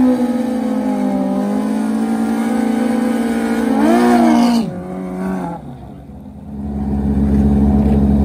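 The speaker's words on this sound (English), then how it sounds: "the Kawasaki ZX14 gets set to take on this white Hayabusa far lane" Two sport motorcycles, a Kawasaki ZX14 and a white Suzuki Hayabusa, rev loudly at a drag strip in a street bike versus drag bike shootout, engines holding a steady high drone, then revving up and falling before rising again.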